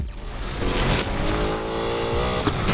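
A DeLorean races in Need for Speed Unbound, its engine droning loudly and steadily while tires squeal and skid through corners, with no talking.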